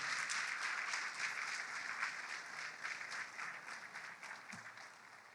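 A church congregation applauds during a sermon, a dense, steady wash of many hands clapping that holds throughout and fades slightly toward the end.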